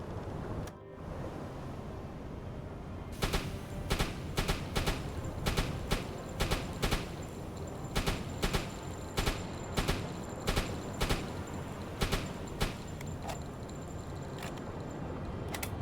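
Small arms gunfire from a submarine warfare game: a steady run of sharp, evenly spaced single shots cracks out over a constant wash of sea and wind, with no talking.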